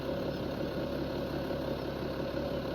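A tractor fitted with a front loading arm idles in a farming video game, a steady, close, low mechanical drone that holds constant throughout with no voices.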